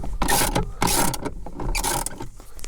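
Ratchet wrench with a 24mm socket undoing the steering wheel nut on a Fiat 500, giving close, loud bursts of rapid clicking in several repeated strokes, with no talking.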